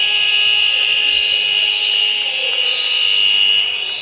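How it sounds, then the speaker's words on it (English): At a futsal match at the Sir Tom Finney Sports Centre, the full-time buzzer blares as one continuous, loud, harsh electronic tone for several seconds before cutting off. "The buzzer sounds to signal full time then."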